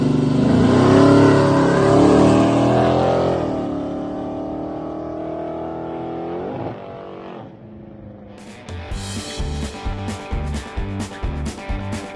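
A 426 Hemi V8 runs during cam break-in, a deep loud roar easing from high revs down to a rumbling idle, then a choppy, pulsing lope.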